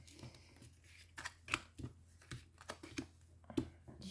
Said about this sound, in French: Nous allons prendre nos 9 cartes.